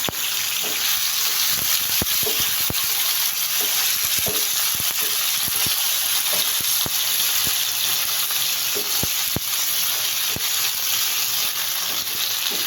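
Ingredients being roasted in a pan for a chicken pota dish, a steady loud sizzle with an even hiss, punctuated by scraping clicks of a spoon stirring, close and continuous without talk.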